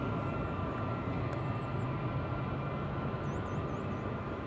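A Lufthansa airliner taxis at Manchester Airport, heard as a constant broad jet roar and rush that fills the whole clip, with faint high birdlike chirps above it.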